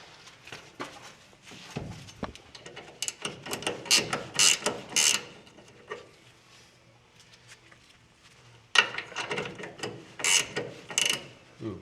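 A hand ratchet clicks in quick bursts while retorquing the lower ball joint bolts on a 1960 Pontiac, with sharp metallic ticking, pauses between strokes and some handling clatter, close up and without talk.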